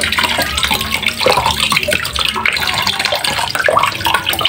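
Water splashes and runs steadily with broadband sloshing and scraping as potatoes are rinsed and rubbed in a basin, close by.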